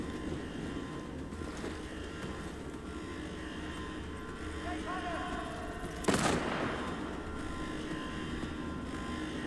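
A single sharp sniper rifle shot rings out in the Sniper Ghost Warrior Contracts 2 video game, loud against a constant rumbling background drone.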